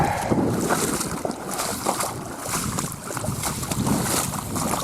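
Water sloshes and laps against a small rowboat amid steady wind noise in bad weather, a continuous rushing wash with no voices.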